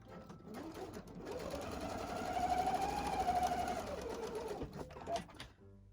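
A sewing machine runs steadily for several seconds, topstitching along the long edges of an art pouch with a lengthened stitch, a continuous mechanical whir that swells slightly mid-run before stopping, with faint voice in the background.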